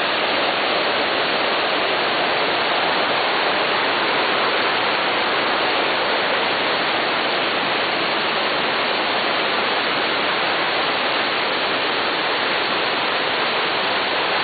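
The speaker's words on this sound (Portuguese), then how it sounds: "Olha a cachoeira aqui" Steady, dense rushing water roars continuously without pause, a broad even wash like a waterfall heard up close.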